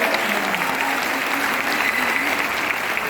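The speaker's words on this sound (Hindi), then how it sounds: "एक बार जोरदार तालियां हमारे 18 साल।" Steady, dense applause from a large audience at a Vestige company event in India, sustained at an even level throughout with faint crowd murmur underneath.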